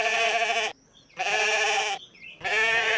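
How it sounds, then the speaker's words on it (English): Cartoon sheep bleating in three loud, drawn-out calls separated by short pauses, close and clear with no talking over them. "Katie and Tom Pottage with their sheep, Parsley and Sage."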